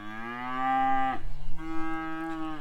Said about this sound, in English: dairy Angus cross cows, which we are gonna breed some, use some for beef